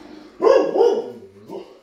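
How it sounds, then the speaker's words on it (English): Dogs bark in a garage, two or three loud close barks with a whimpering tail, echoing slightly in the enclosed space. "The dogs are here too."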